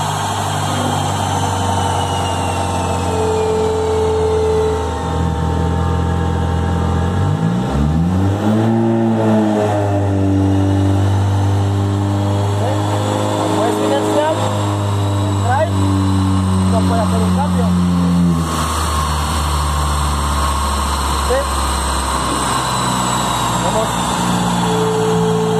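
An Audi with a tired, badly tuned engine and CVT gearbox, a loud steady drone that climbs sharply in pitch as it revs, holds high, then settles back, with voices talking over it.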